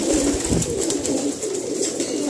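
Pigeon hens, Batera breed with red eyes alongside English tipplers, cooing in a loft; a continuous close, soft rolling coo throughout with no talking.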